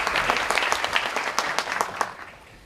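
Audience applause greets a guest being introduced at an education forum on the fourth industrial revolution and future education: steady, dense clapping from a seated crowd indoors that fades out toward the end.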